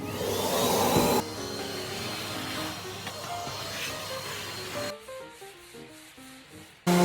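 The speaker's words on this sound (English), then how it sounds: "when the Europeans tell you to go hoover something, they mean this guy" A vacuum cleaner, a hoover, runs with a steady rushing roar and rubbing strokes against the floor, loudest at the start before continuing at a lower level and then cutting off abruptly.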